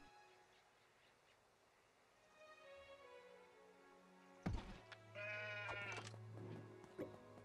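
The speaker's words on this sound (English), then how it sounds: "where are you, sheep? There's some sheep." Sheep in the game Craftopia bleat several times, faint and distant at first and then a louder wavering bleat close by, with soft thuds and movement noises around it.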